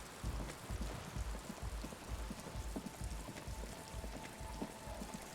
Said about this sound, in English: Does this game have rain?